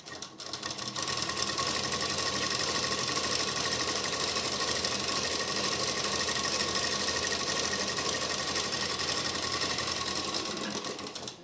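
An electric sewing machine runs a long continuous stitching pass along the fitting seam of a lined suit, a steady fast whirring rattle, loud and close, starting and stopping cleanly.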